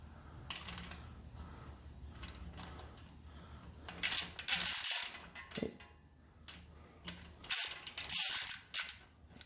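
Rear hub nut tightened on a KBO Breeze ebike, close ratcheting wrench bursts in several quick clicking runs separated by pauses and small metallic clinks, no voices.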